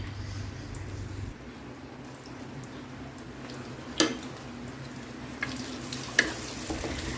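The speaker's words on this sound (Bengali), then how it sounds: "পরিমাণ মতো তেল দেওয়ার পরে এখন পেঁয়াজগুলো দিয়ে দিলাম" Sliced onions frying in oil in a pan for a duck curry, a continuous low sizzle heard close by, with a few sharp clinks and taps scattered over it.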